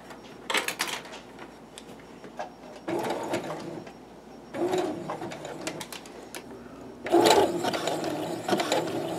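A sewing machine zigzag-stitches a fabric cord coil in four short runs of rapid mechanical clatter separated by pauses, close and moderately loud.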